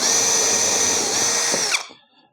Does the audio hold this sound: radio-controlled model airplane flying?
no